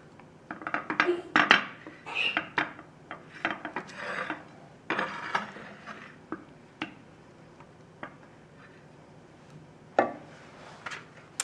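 Tomato sauce spread across the bottom of a baking dish for chicken parmigiana: a utensil scrapes and taps against the dish in irregular clinks and clatters, close and moderately loud, with no talking.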